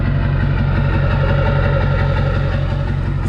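A 7.3L Powerstroke diesel truck engine idles steadily up close at the tailpipe, a low, even rumble with a rhythmic knock throughout.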